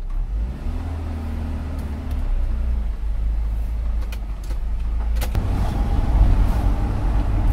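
Carbureted car on a test drive, heard from inside as a steady low engine drone and road rumble that swells a little midway, with faint clicks and no talking.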